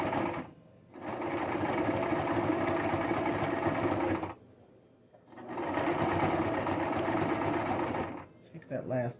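Domestic sewing machine running a zigzag stitch along the edge of fabric, a steady whirring buzz in two long bursts separated by a short stop, close and clear.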